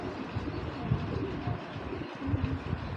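Racing pigeons coo softly in a loft, low murmuring calls repeating over a steady, faint background hum, with no clear voices over them.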